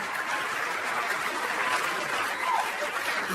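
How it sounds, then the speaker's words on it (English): A comedy show audience applauding for a comedian, a steady, fairly loud wash of clapping throughout with a faint voice or chuckle near the end. "Please clap for him."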